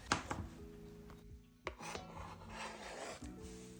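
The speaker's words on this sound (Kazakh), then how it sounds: "Қиярды да майдалап, жіңішкелеп, соломкалап турап аламыз" A knife slices quickly through cucumber into thin strips on a board, a run of soft rasping cuts with a few sharper taps, close and quiet.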